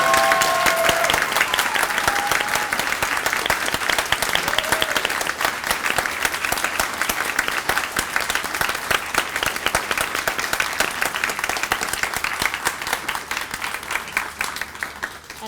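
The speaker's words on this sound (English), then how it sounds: "Let's all give them another round of applause for their completion." Audience applause at a students' moving-up completion ceremony, a dense, steady wash of many hands clapping that holds loud and continuous throughout, with faint voices mixed in early on.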